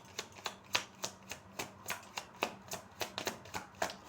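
Playing cards are shuffled and drawn for a pick-a-pile reading, giving close, crisp riffling snaps in a steady, rapid rhythm of about a dozen bursts, with no talking.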